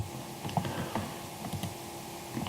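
Quiet, close typing on a computer keyboard: a short run of soft, irregular key clicks.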